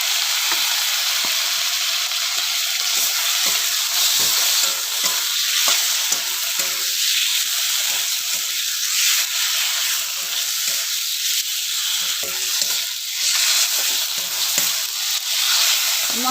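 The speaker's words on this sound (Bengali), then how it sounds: "হলুদ দিলাম, টমেটো কাঁচা লঙ্কা একসাথে দিয়ে দিচ্ছি।" Turmeric, tomato and green chili with chili powder sizzle and fry in oil in a pan for a Bengali fish chorchori, a loud continuous crackling hiss with occasional stirring scrapes and no talk.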